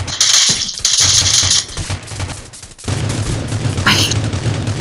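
Gunfire in the Rules of Survival squad game comes as rapid bursts of automatic shots, loud and close, broken by a brief lull before the firing resumes.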